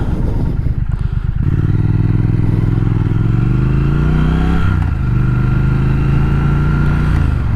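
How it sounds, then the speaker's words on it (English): A 2020 Triumph Speed Twin motorcycle engine and exhaust, loud and close, pulling steadily with a low throbbing drone that rises in pitch through acceleration, dips briefly with a gear change, then climbs again. "I like the sound a lot. Whatever muffler they have on this is really, really solid."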